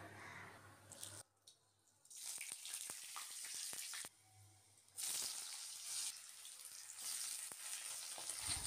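Mixed chopped vegetables, including eggplant, for a Bengali chorchori sizzle in hot oil, the crackling frying broken by stirring scrapes and brief quiet pauses, close and fairly soft.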